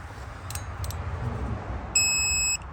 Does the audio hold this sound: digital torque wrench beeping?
yes